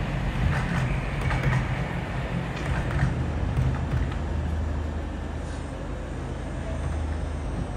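A model LNER Azuma train runs on a model railway with a steady low rumble and rolling hum, fairly loud and continuous, with faint onboard announcement-like sounds in the background.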